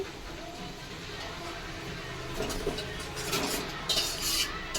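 Marinated chicken goes into a pan and is stirred, with soft scraping and a few light metallic clinks near the end over a low sizzle, and faint talk in the background.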